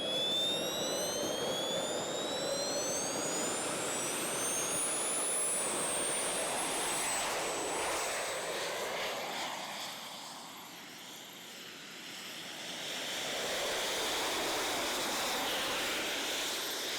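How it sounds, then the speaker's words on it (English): A jet suit pilot flies with its jet engines, giving a loud, steady roar with rising whine that stays strong throughout, dips slightly midway as the pilot moves off, then swells again. "I wanted to see how a real-life jet suit pilot flies around"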